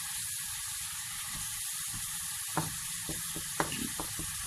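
Food cooking in 20 grams of butter over low heat, a steady soft sizzle with a few light clicks of stirring near the end, close and even throughout.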